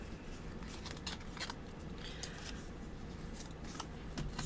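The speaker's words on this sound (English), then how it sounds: "Probably can fussy cut that if I need it." Scissors fussy cutting around printed paper, soft repeated snips and rustling paper, quiet and close, with no voice.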